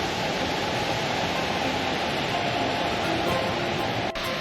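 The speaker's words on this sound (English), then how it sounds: "Another quick stop to see the Horsetail waterfall and continue our drive." Steady, broadband roar of Horsetail waterfall near Valdez, Alaska, a constant rushing wash of falling water that fills the whole clip, with no voices.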